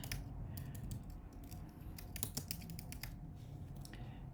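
Rapid, irregular clicking of keys on a computer keyboard, close and fairly quiet, in short bursts with brief pauses, no talking.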